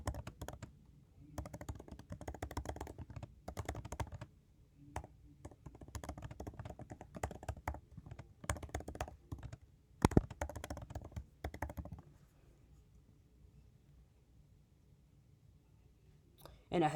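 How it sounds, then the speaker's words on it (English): Keys clack on a Mac computer keyboard as a few sentences are typed, in quick irregular bursts and short pauses, close and quiet, followed by a few seconds of near silence. "So I'm just gonna type in a couple sentences or something."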